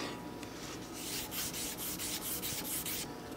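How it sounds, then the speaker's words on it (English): Light hand sanding of wood with a rubber sanding block, heard as close, rhythmic rasping strokes that repeat steadily back and forth. "Just gonna give all these a nice light sanding."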